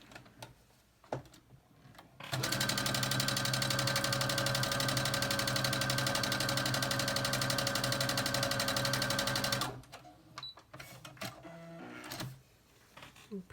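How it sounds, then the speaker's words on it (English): A sewing machine stitches a quilt block in one continuous, loud, rapid run lasting several seconds, framed by quieter handling noises and rustling before and after. "Gonna sew it on."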